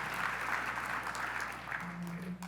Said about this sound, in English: Please give a quick round of applause for Father Flagg, who's just an extraordinar